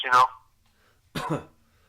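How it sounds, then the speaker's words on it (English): Two short, harsh bursts about a second apart, the first sharper and the second rougher, like coughs close up with quiet between them. "Oh, I'm coughing."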